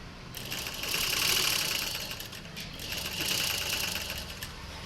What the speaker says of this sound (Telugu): హ్యాండ్స్కి 2 కుట్లు వేసుకున్నాం